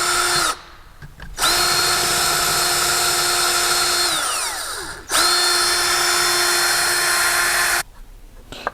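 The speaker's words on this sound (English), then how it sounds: "I'm going to drill these 3 holes out" A power drill whines loudly in long sustained runs, pitch shifting as it bites, with brief quiet pauses between bursts, drilling holes while fitting a turbo boost gauge to a car.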